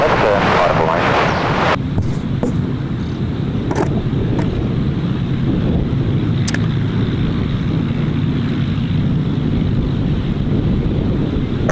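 A formation of aircraft takes off together at Gold Coast Airport after an airshow, a loud steady engine roar with wind buffeting the microphone throughout and brief clatter early on.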